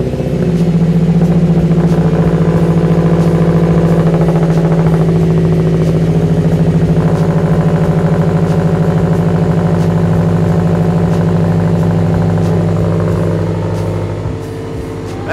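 A 2015-or-later Subaru WRX/STI engine idles steadily after being started, a loud, close, continuous rumble with faint clatter that eases slightly at the very end.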